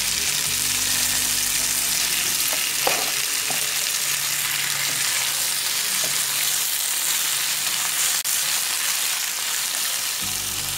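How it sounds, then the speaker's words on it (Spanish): Strips of poblano chile fry in a pan for a corn and squash blossom soup, a loud, continuous close sizzle that holds steady with a few clinks and pops, no voices. "vamos a freír igual las rajas del chile"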